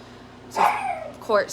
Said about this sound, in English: sorry about the dog if you can hear it.